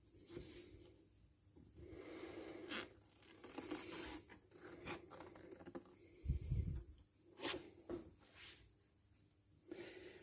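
Scissors snipping through paper parts of a Zulu fishing boat paper model, close and quiet, with short bursts of crisp cutting and rustling separated by brief pauses.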